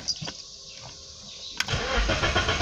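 A BMW E36 engine starting after a new fuel pump install: brief cranking, a sharp catch, then the engine fires and settles into a fuller running roar, close by.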